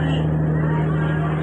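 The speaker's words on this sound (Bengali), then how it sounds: "ঢাকা বরিশাল রুটের সবচেয়ে বড় লঞ্চ এখন বর্তমানে সুন্দরবন 16।" Aboard the Sundarban 16, a large passenger launch on the Dhaka–Barisal route, a steady low engine drone with a strong hum fills the deck, and a murmur of crowd noise sits beneath it.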